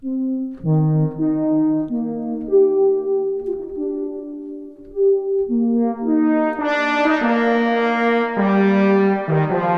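Omnisphere 3 synth patch Cinematic Horns Wheel plays warm, brassy sustained horn chords in a slow melodic phrase that swells brighter and fuller toward the end, with no talking.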